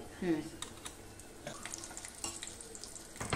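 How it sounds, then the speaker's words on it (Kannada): Mustard seeds, urad dal and a small chili tempering in hot coconut oil: a soft, steady sizzle with faint crackles and pops and a few clinks of a spoon, fairly quiet and close. "ಮಾಮೂಲಿ ಒಗ್ಗರಣೆ, ಸಾಸಿವೆ, ಉದ್ದಿನ ಬೇಳೆ, ಒಂದು ಚಿಕ್ಕ ಮೆಣಸು, ತೆಂಗಿನೆಣ್ಣೆಯಲ್ಲಿ ಒಂದು ಒಗ್ಗರಣೆ"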